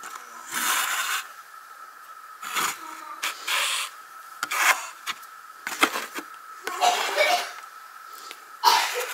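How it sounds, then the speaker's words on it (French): A child coughs in repeated short, dry bursts in a quiet room, with pauses between the fits and the last bursts louder, along with faint scraping and rubbing noises. "j'ai ma fille qui tousse"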